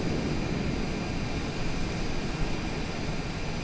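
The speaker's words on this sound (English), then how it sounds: "Small jet engine." Small turbine auxiliary power unit of an airliner in Microsoft Flight Simulator, a steady, loud, broadband roar and hiss holding unchanged throughout with no voices.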